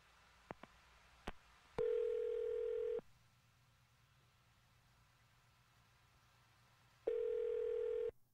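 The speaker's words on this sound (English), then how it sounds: "I'm going to dial his phone number" Over a quiet line, a few sharp clicks are followed by a steady telephone ringback tone that lasts about a second, then silence, then the same tone again, all fairly faint.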